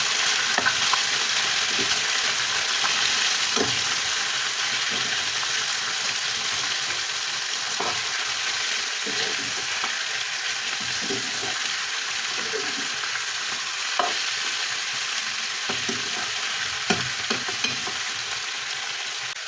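Chicken frying in a pan with black pepper and onion powder is stirred throughout, a steady close sizzle broken by frequent soft scrapes and taps of the spoon, with no talking.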